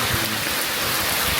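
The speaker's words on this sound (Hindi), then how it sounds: "बहुत बारिश हो रही है" Heavy rain pouring down steadily, a dense, loud, continuous wash of rain hitting surfaces near a shelter, with no voices over it.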